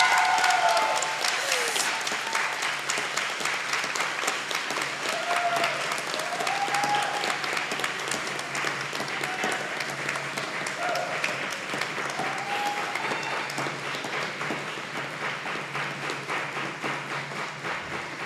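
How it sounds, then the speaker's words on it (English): Clapping at a Garrison school board meeting after a vote, a long steady round of applause from the room that gradually thins and softens, with some voices in the background. "Now you can clap."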